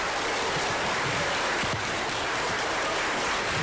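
Applause from an audience at a lookalike show in Opatów, a dense, steady wash of clapping that fills the whole stretch at close range with no voices on top.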